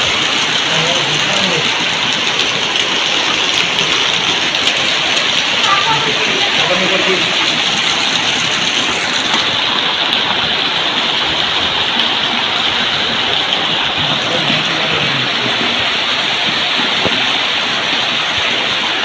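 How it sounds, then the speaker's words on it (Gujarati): Heavy rain pours down in a steady, dense roar that stays loud and unbroken throughout, with a voice faintly talking beneath it. "ફૂલ વરસાદ આવે છે."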